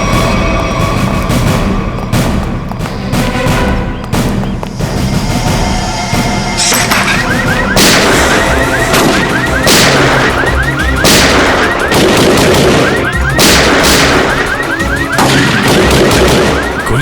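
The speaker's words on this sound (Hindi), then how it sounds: "गोली चला कौन रहा है?" Gunfire rings out in a Hindi TV crime drama, dense sharp shots and booming bursts layered over dramatic music, loud and continuous for the full stretch.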